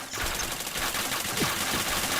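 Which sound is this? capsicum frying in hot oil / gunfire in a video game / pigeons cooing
gunfire in a video game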